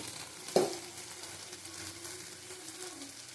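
Pointed gourd and masala sautéing in a pan, a steady soft sizzle with one brief sharp knock of a spoon early on, then continuous low frying hiss.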